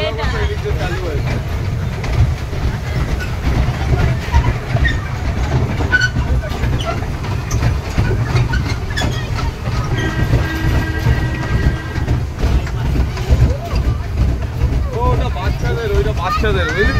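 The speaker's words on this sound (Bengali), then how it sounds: "না না এটা রোলার কোস্টারটাই" An amusement park roller coaster rumbles along its track in a continuous loud low roar with rattling and faint metallic squeals, while people talk over it throughout.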